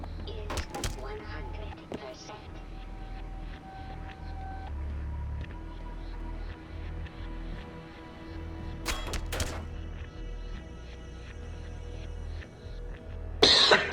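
A few harsh coughs and throat clearings break through near the start and again midway, close to the listener, amid low background noise.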